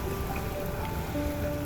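Steady rain patters down at a quiet, empty beach on a wet day, a dense, even hiss of drops striking the surface with a few faint tonal streaks running through it.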